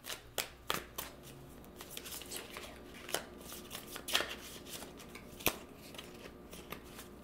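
A deck of tarot cards is shuffled by hand close up. Soft riffling and shuffling come with sharp card snaps at irregular moments, and nobody talks.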